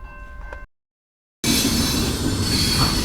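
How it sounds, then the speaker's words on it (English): A train passes nearby with a loud, harsh rush of wheels and squealing rails, starting suddenly after a brief gap of silence and staying heavy to the end. "there goes the train"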